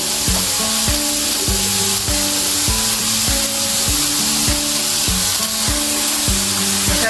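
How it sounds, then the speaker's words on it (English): Spinach simmering in a pan for a spicy pepper sauce, a steady loud sizzle and bubbling filling the whole stretch, with regular sharp clinks of a utensil against the pan keeping an even rhythm. "So here goes the spinach, and you just simmer this for a little bit"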